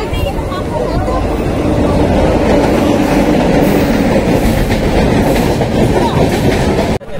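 The Visakha Express rolls into Srikakulam Road station, a loud, close, continuous rumble of wheels with rhythmic clickety-clack from the rail joints, sustained throughout before cutting off abruptly at the end.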